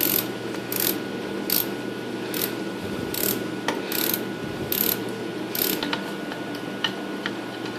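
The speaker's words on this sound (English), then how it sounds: "Just take your bolts all the way out." A ratchet clicks in rapid bursts while backing out power steering pump bolts on a GM 3.1/3.4 V6 engine. The bursts are close and loud and repeat about every half second, with no talking.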